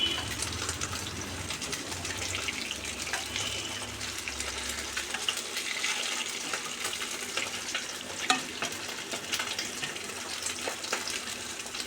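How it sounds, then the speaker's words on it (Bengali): Kofta balls for a kofta curry fry steadily in hot oil, a continuous close sizzle and crackle with faint stirring, and no voices over the sound. "কোপ্তাগুলো প্রায় ভাজা হয়ে গেছে"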